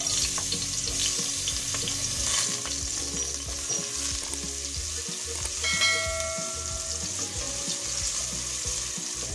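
Garlic frying in a hot pan with a dense, continuous sizzle and occasional light metallic clinks of stirring, close by.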